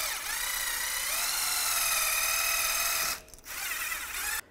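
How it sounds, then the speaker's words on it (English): A powered wire brush whines steadily as it scrubs dirt from the rear wheel bearing hub of a 2011–2021 Jeep Grand Cherokee, with a brief dip and restart near the end. "I'm just going to use a wire brush and clean this up so we can take the snap ring out."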